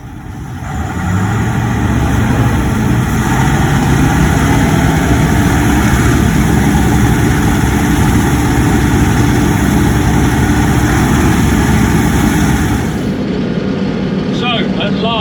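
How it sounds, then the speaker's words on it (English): Old Perkins 540 V8 diesel in a combine harvester working a wheat field, a steady, loud, low engine drone running continuously from up close beside the cab, easing off near the end. "that's the engine, the old 540 Perkins V8"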